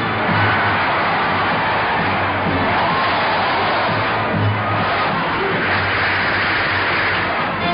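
A basketball arena crowd roars and cheers during an NBA Finals playoff game between the Boston Celtics and St. Louis Hawks, a dense, steady wall of noise with no breaks, muffled like an old recording.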